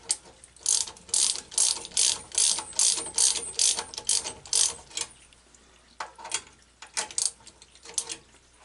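Ratchet wrench tightening a plumbing fitting during a water well pressure switch replacement, a rapid series of close, loud mechanical clicking bursts in repeated strokes with brief pauses between them.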